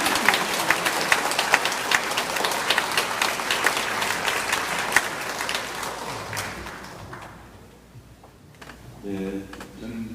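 An audience at a Catholic parish book concert applauds author Lee Baek-man, former ambassador to the Holy See. Dense, steady clapping fills about six seconds, then fades away, and a voice begins speaking briefly near the end.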